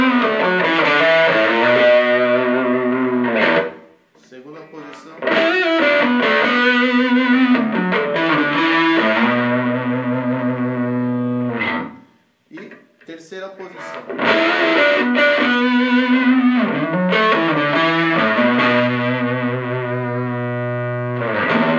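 Washburn Les Paul electric guitar on its first pickup position, played through distortion in sustained, ringing chords and single notes with brief gaps, loud and close.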